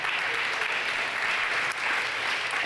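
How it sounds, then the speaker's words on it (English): Audience applause for the performance artists at a whistleblower event, a dense, steady clapping from a crowd that continues without a break throughout. "Can we have a round of applause for the performance artists?"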